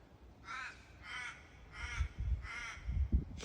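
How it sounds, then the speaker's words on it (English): A single crow caws five times at dusk in a steady, evenly spaced series, moderately distant and clear, with faint low rumbling underneath and no talk. "Now listen to that crow, just saying goodnight to everybody."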